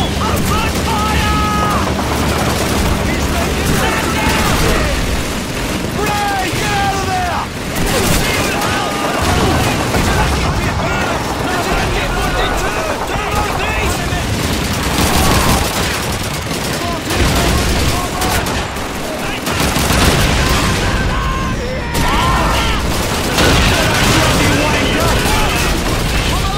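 Dense Call of Duty 2 battle audio, with rapid rifle fire, sustained machine-gun bursts and booming explosions layered continuously and loudly, while soldiers shout over the din.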